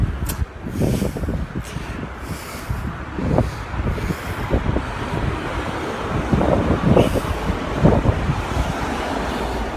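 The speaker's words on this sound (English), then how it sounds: "what the traffic is like getting into Saffron Walden, the main part here" Road traffic heading into Saffron Walden rumbles as a continuous broadband roar, with passing vehicles swelling and fading, buffeted throughout by heavy wind noise on the microphone.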